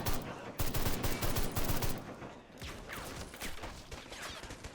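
Rapid gunfire from a WW1 battle in the Great War Realism Mod for a video game, with loud dense bursts of shots in the first seconds, then a steadier rattle of continuous fire to the end.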